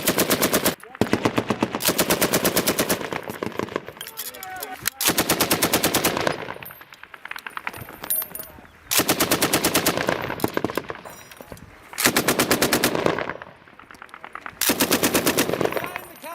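Machine-gun fire from US Marines in Kajaki, Afghanistan, fired as reconnaissance by fire, comes in several long, loud sustained bursts separated by short pauses, close and harsh, with no talk.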